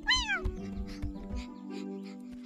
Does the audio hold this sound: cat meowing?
yes